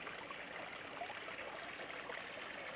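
A waterfall feeding a backyard koi and goldfish pond pours in a soft, steady, continuous rush and trickle, fairly faint and unbroken, with no voices.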